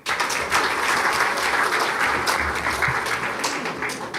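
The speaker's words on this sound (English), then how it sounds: "Another round of applause for Gisairo" An audience at a convention hall breaks into loud, sustained applause, a dense steady wash of clapping with no voices over it.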